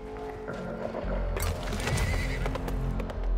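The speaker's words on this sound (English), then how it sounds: "With Jane's horse" A horse in the Weird West video game whinnies loudly while its hooves clip-clop in a steady rhythm, close and prominent with no talking.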